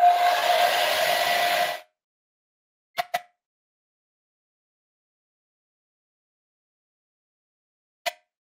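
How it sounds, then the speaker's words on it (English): A hairdryer blowing on watercolor paper runs as a steady loud whirring hiss for almost two seconds, then cuts off, followed by a few faint, brief clicks in near silence. "So I'll just get the hairdryer out a second."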